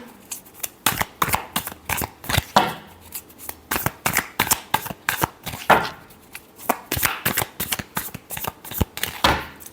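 A deck of tarot cards is shuffled again and again close up, a series of crisp riffling and slapping bursts in an uneven rhythm.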